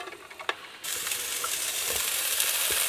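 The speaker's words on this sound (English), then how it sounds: "Listen to that sizzle" Three large yellow onions hit a pan of hot ground-meat grease on high heat, bursting into a loud, steady sizzle after a brief clatter, with no talking.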